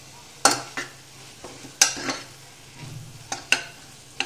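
Vegetables for masale bhat stir-fried in a pan, with a few sharp spatula scrapes and clanks spaced irregularly over a soft, low sizzle, close by and moderately loud.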